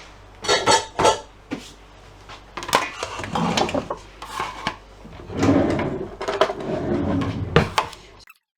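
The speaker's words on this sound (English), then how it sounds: "Just going to give them a bit of a chop up now." Baby potatoes being chopped on a board in a home kitchen, giving a run of irregular close knife knocks and thuds with short pauses between bursts, no talking.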